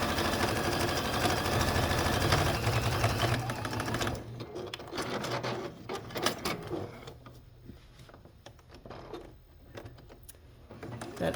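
A sewing machine stitches through the bulky layers of a vintage quilt, running in a loud, continuous hum for about four seconds before settling into softer, uneven stitching and clatter.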